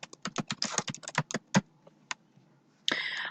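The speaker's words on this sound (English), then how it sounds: "I'm typing in Anne Frank." Someone types on a computer keyboard into a database search bar: a quick, uneven run of crisp key clicks, a pause with a few scattered taps, then a short louder burst at the end.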